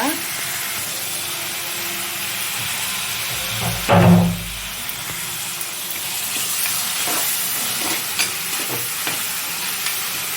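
Ingredients for a mango fish curry sauté in a pan, a steady frying sizzle with occasional stirring, swelling briefly into a louder steamy hiss midway before settling back.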